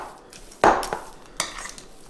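White chocolate peppermint cookie ingredients get mixed in a bowl, giving a few sharp clinks and scrapes of a utensil against the bowl, one loud knock followed by lighter taps, close and without talk.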